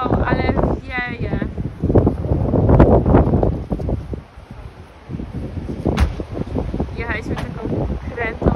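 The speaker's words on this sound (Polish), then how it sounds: "Wow, ale wieje." Strong mountain wind buffets the microphone in loud gusty rumbles, rising and easing over several seconds, while people talk intermittently over it.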